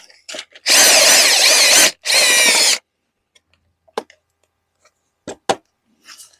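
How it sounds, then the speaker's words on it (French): A power drill drills out three new rivets on a Yamaha Ténéré 660 motorcycle, two loud sustained bursts of about a second each, then quiet with small clicks and handling noises. "il faut prendre la perceuse. Et on va faire sauter les 3 rivets"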